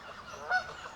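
A greylag goose honks nearby in a single short, nasal call, heard clearly over low outdoor background noise.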